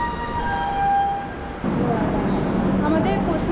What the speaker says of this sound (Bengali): এটা আমাদের ট্রেন,